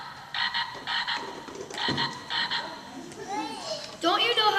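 A frog croaking in a pond, with repeated pulsing croaks followed by warbling, chirping calls, close and fairly loud, with no talk.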